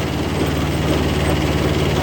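Steady low rumble of a Japanese tractor engine idling close by, constant and unbroken with no talk.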